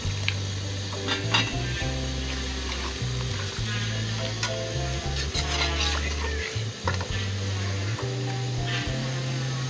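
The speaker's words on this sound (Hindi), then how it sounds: "ये प्याज, सब्ज़ मिर्ची, लहसुन अदरक फ्राई हो गए हैं। अब मैं टमाटर का पेस्ट शामिल कर रही हूँ।" Tomato paste fries with onions, green chillies, garlic and ginger for a chicken feet curry, giving a continuous sizzle with repeated stirring, scraping and clinks of a utensil against the pot nearby.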